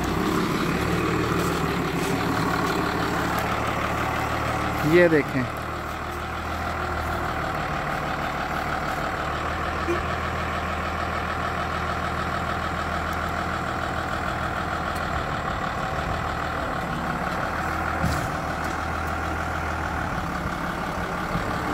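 A large tractor loading sacks of onions onto a truck, a steady diesel engine rumble with hydraulic strain, a brief louder clank around the middle and another later, with a few words spoken.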